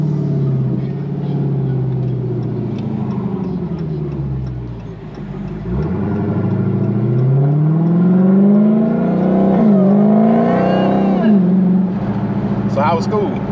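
A Dodge Hellcat revs and accelerates with a rising, whirring engine note that climbs and dips, heard close under ongoing talk and a steady rumble.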